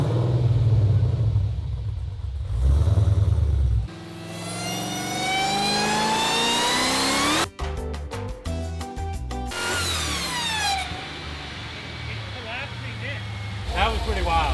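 A Nissan 350Z fitted with a Hellcat engine revs hard at wide open throttle in rising, howling sweeps, with a choppy burst of pulses partway through, while people talk over the noise.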